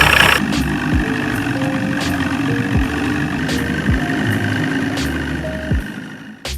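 An outboard boat motor idles steadily at close range with a low, even mechanical drone, a few faint tonal chirps rising above it, before the sound tails off at the end.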